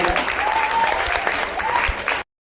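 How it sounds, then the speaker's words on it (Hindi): A loud burst of close, dense applause from students at a Teachers Day celebration in a coaching centre welcomes a boy coming up to sing, a short rush of clapping that stops abruptly. "एक बार जोरदार ताली का"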